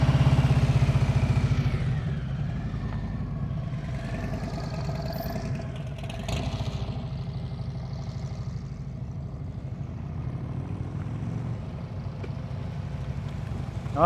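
A motorcycle engine runs steadily at low revs during slow speed riding practice, with a rough, rhythmic idle-like rumble that is close and constant and never revs up, and no talk.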